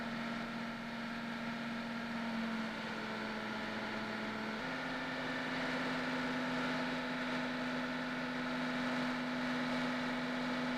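Racing powerboat, a 45-foot Victory with a pair of 900 horsepower Schema naturally aspirated, fuel-injected engines, droning steadily and loudly throughout with a strong sustained hum that steps slightly higher in pitch midway.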